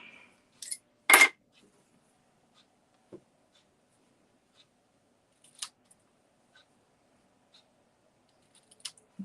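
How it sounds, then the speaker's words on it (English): A single crisp snip of ribbon scissors cutting ribbon for a small bow near the microphone, followed by faint rustles and a few tiny clicks in near silence. "And my ribbon scissors."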